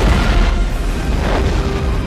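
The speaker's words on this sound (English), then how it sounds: "Chill with the explosions." Loud, continuous explosion rumble from the film Deep Blue Sea, a dense sustained boom filling the whole stretch with no break or quiet.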